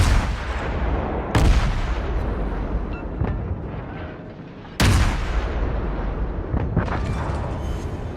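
Ship guns fire at slow-moving targets in the World of Warships video game, two heavy booming salvos a few seconds apart, each trailing into a rumbling decay, with lighter distant thuds between.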